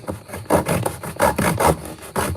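Hand saw cutting through a workpiece held without a vise in a home workshop, with about eight rasping back-and-forth strokes in a steady rhythm, close and fairly loud, with no talking.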